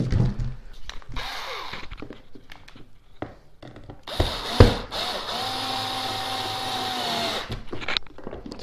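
A power driver tightens screws on an outdoor LoRaWAN gateway enclosure, with short buzzing bursts and then a longer steady whine before it stops, over background room noise.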